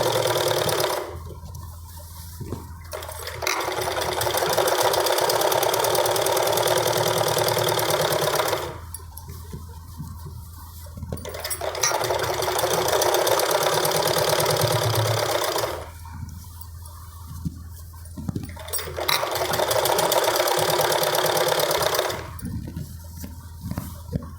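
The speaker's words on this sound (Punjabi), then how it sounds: "ਇਹਦੇ ਉੱਪਰ ਇੱਕ ਸੀਨ ਲਗਾ ਲਾਂਗੇ ਬਿਲਕੁਲ ਕਿਨਾਰੇ ਕਿਨਾਰੇ ਤੇ ਆਪਾਂ ਸੀਨ ਲਗਾਉਣੀ" A sewing machine stitches a seam along the edge of a Punjabi suit in three long, steady whirring runs, separated by short quiet pauses while the fabric is repositioned.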